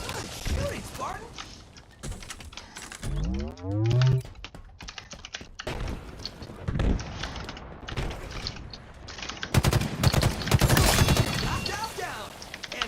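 Rapid gunfire bursts and weapon sounds from the first-person shooter game Halo Infinite, played with mouse and keyboard, come in irregular volleys with sweeping effects, loud and close throughout.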